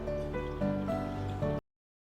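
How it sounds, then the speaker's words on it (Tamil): Amla (Indian gooseberry) juice pours steadily into a cooking pot, a close, continuous liquid splashing and gurgling that runs for about one and a half seconds and then stops abruptly into silence. "இந்த ஜூஸை வந்து நம்ம இன்னொரு பாத்திரத்தில் எதில் சூடு பண்ணுமோ அந்த பாத்திரத்தில் நம்ம இப்போ இதை வந்து ஊற்றுறோம்"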